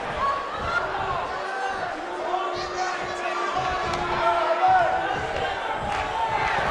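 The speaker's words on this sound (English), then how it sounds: "The crowd never gets tired of The Rock's antics." Arena crowd noise from the WWE 2K19 wrestling game, a steady roar of cheering and chatter filling the background while commentators talk over it throughout.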